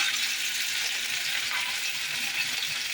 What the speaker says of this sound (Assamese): এনেদৰে মাছখিনি মই ভাজি ল'ম।